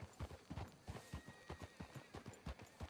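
Horse hooves in Red Dead Redemption 2 clip-clop in a steady, quick rhythm, several hoofbeats each second, close and alone without talk.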